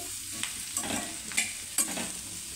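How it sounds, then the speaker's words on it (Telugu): Radish pieces fry over a medium flame with a soft continuous sizzle, while a spoon stirs and scrapes the pan in several sharp strokes close by. "మంచి కలర్ వచ్చిన దాకైతే వేపుకోవాలండి ముల్లంగి ముక్కల్ని."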